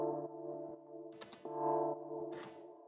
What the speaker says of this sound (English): one more thing that I bring in here is this deep chord. It's just a sample